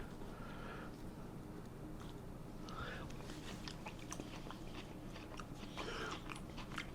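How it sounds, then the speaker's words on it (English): Someone tasting a leftover corned beef dish, with close, soft crunching bites and chewing scattered through several seconds, faint overall, with brief talk mixed in. "we're gonna give it a taste"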